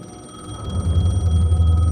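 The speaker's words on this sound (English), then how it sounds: "The payphone was ringing." A payphone rings in the video game Alan Wake 2, a steady electronic trill over a low droning ambience that swells partway through, with no speech.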